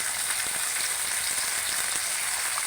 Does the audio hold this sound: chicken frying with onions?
yes